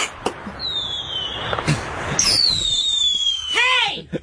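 Fireworks go off with sharp cracks, whistling rockets and a descending whine, loud and close, with a voice speaking over them.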